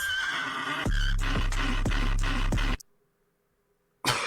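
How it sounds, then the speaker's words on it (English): A horse neighs loudly in a played video, a long shrill whinny with shuddering pulses, then cuts to silence before a brief burst of sound returns at the end. "That was the horse."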